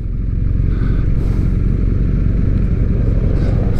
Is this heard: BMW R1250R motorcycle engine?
yes